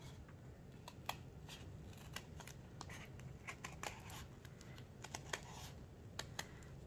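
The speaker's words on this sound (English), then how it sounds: "we take our scissors and we cut along the outside line" Quiet, irregular snips and small crisp clicks from scissors cutting paper, close by, with no talking.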